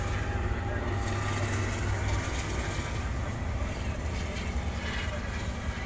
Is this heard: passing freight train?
yes